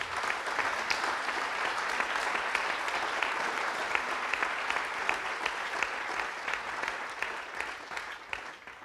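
A lecture-hall audience gives sustained, vigorous applause after a talk on repairing French society, the dense clapping holding steady and close for the whole stretch without speech.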